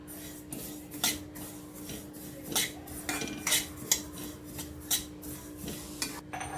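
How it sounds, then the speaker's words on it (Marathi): White sesame seeds being roasted in a pan while a spoon stirs and scrapes against the metal in a steady, repeated rhythm, close and moderately loud, with no talking. "हे वाटीवर तीळ घेतलेत मी ते भाजून घेते सफेद तीळ आहेत"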